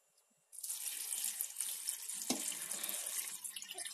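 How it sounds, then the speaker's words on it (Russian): Water gushes steadily from a tap into a jar packed with pine cones for homemade syrup, starting abruptly after a brief quiet and continuing as a close, bright splashing stream. "заливаю водой"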